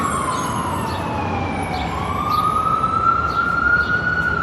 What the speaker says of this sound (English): when is that ambulance actually gonna go?